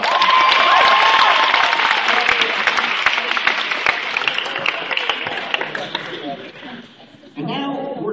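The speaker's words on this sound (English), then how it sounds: "Let's give him another big round of applause." Loud applause with some cheering from a school after-prom hypnosis show audience, starting full and gradually thinning out before a voice begins speaking near the end.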